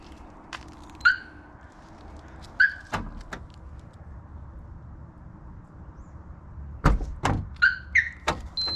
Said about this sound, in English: It's got door poppers.